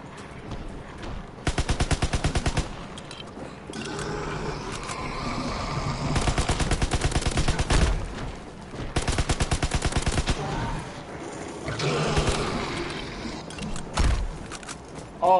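Video game gunfire during a firefight, with several rapid automatic bursts of shots repeating every few seconds over steady game noise, moderately loud.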